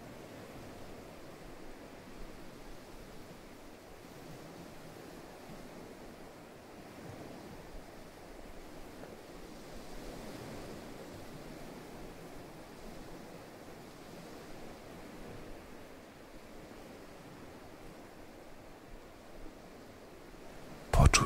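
Soft, continuous wash of ocean surf on a beach, low and steady with gentle swells and a breezy hiss, distant and calm throughout, with a brief louder bump at the very end.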